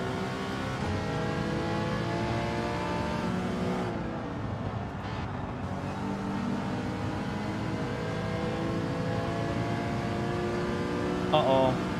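Race car engines in Gran Turismo 7 whine and rev steadily through a GR.4 manufacturer race, with pitch rising and falling as gears shift and another car closing in behind.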